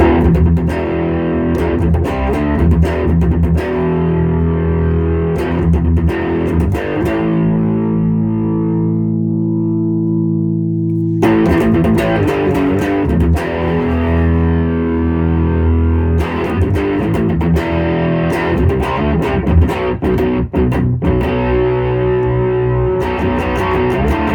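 Electric guitar through a Master Shredder Doom Beast distortion pedal, played loud and alone with thick high-gain crunch, chugging chords and sustained ringing notes that drop to a held chord before heavy riffing resumes.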